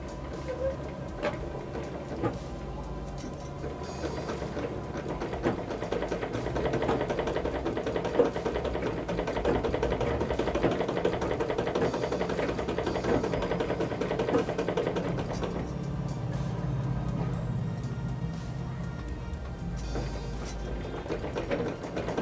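A sewing machine stitches a shoulder-cut blouse, running in a continuous mechanical whir that holds steady for most of the stretch and eases off near the end.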